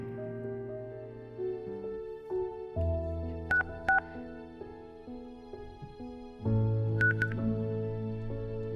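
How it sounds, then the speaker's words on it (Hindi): A telephone is dialed, a string of short electronic key tones plays in an irregular rhythm over a low steady hum, quiet and close. "एक बार फोन करके देखूं क्या?"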